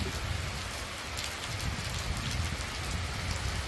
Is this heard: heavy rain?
yes